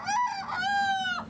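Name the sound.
rooster crowing, game chicken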